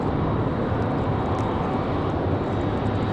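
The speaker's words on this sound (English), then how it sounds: "Got a United 737 pushing back." A United Boeing 737 pushing back at an airport produces a steady, dense engine roar that stays unbroken and loud throughout, with no voices.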